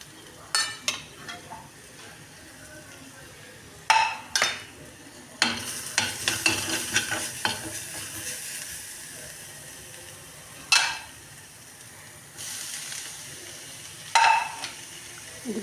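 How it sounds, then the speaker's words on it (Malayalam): Cooked green amaranth leaves sautéed in a pan: a soft sizzle runs underneath while a spoon repeatedly scrapes and clanks against the pan in short bursts, with a busier stretch of stirring in the middle. "ഇതിലേക്കിട്ടതിന് ശേഷം നന്നായി വഴറ്റുക."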